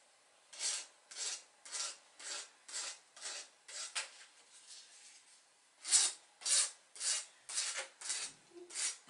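A hand file rasps across a small piece of iron wire in a quiet room, a run of about fifteen regular strokes, each a short dry scrape, with a brief gap midway before the strokes resume.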